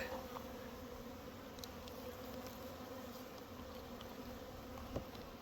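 Steady, dense buzzing of many bees on hive frames close by, a continuous hum with no pauses and no voices.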